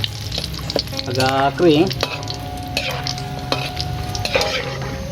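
Candlenuts fry in hot oil, giving a steady sizzle broken by scraping stirs and a few clinks of a utensil against the pan, while someone speaks briefly over it.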